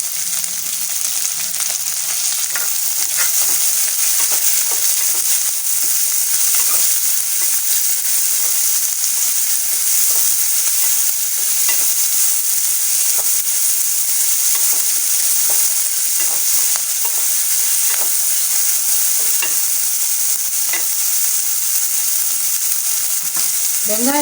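Chopped onion and garlic sauté in a pan for valakkai puttu, giving a long, even, close sizzle with faint stirring scrapes throughout and no voices.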